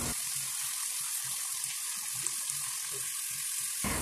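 Onion and spices fry in a pan with a splash of water added, giving a soft, steady sizzle and bubbling that stays faint and even throughout, with no talking.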